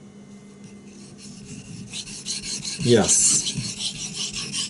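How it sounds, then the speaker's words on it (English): A Bark River knife edge being sharpened, a dry rasping scrape of steel on an abrasive that swells into one louder, closer stroke midway, with steady rubbing before and after and a brief word spoken. "This is the best, easiest knife in the world to sharpen, in my opinion."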